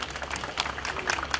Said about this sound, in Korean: 모두 큰 박수로 맞이해 주십시오.